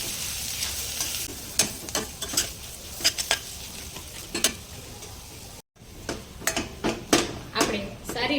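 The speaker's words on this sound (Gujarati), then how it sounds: "આપણે સારી રીતે મસાલો આ રીતે મિક્સ કરી અને ગેસની ફ્લેમ બંધ કરી દેવાની છે" A spoon scrapes and knocks against a pan while potato masala filling for a Bombay masala toast sandwich is stirred, giving repeated close metallic clinks in an uneven rhythm over a faint sizzle, with someone speaking throughout.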